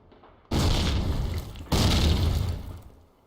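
Grenade explosions during a competitive Call of Duty match on the Pavlov and Brecourt maps, two loud close booms about a second apart, each rolling into a long rumbling decay.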